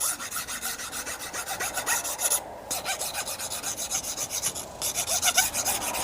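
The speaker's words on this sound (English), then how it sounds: "show you a little bit on how I'm going to file it and get it down to spec" Hand files chalked with welder's chalk rasp across a metal belt buckle being shaped to size, steady rhythmic back-and-forth strokes, close and loud with two brief pauses.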